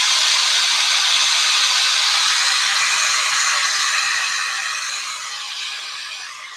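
A small handheld craft heat dryer blows steadily, drying paint on a craft piece; the loud broadband hiss holds constant close up, then eases slightly softer toward the end, with no voices.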